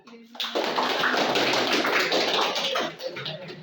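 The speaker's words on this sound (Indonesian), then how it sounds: "Tepuk tangan." A burst of applause from a class, dense clapping rising quickly and holding steady for a few seconds before tapering.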